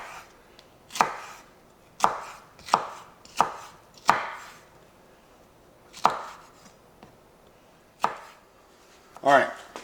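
A knife cuts beef into slices on a board, giving about nine sharp, distinct chopping knocks spaced irregularly a second or two apart, close and clear over quiet, with no talking.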